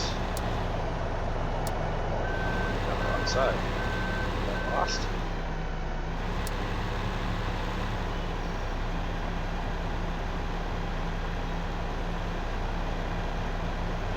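Trucks in traffic rumble steadily in Farming Simulator 15, with a short run of repeated reversing beeps near the start over a constant low engine drone; a voice speaks briefly.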